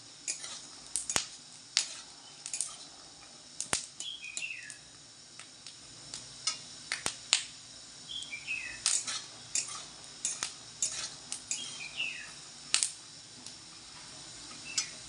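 Peanuts dry-fry in a pan with dried chillies, giving irregular sharp clicks and metallic scrapes and taps from stirring, spaced unevenly over a quiet background with no talk.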